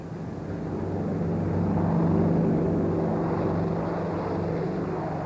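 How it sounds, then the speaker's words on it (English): WWII American bomber planes take off from an aircraft carrier, their propeller engines producing a loud, steady droning roar that swells and then eases slightly. "Taking off from an aircraft carrier, the planes staged the raid that the Japanese believed was impossible."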